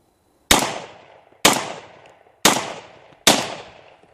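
Four sharp gunshots ring out about a second apart during a shooting test of cast bullets, each a loud, close crack with a short fading tail, alone without talk.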